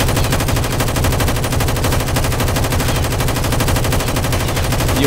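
Continuous rapid automatic gunfire in GTA 5 with unlimited ammo, a loud unbroken machine-gun stream of dense repeated shots lasting the whole stretch with no pause.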